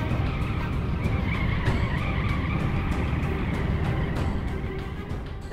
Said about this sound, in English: the B-29 screeches to a halt.